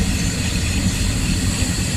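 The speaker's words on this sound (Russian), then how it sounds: "Это грузовой вагон." A freight train wagon with sparks flying from its wheels rolls slowly past, making a loud, continuous low rumble with a grinding metallic wash on top, steady throughout with no talking.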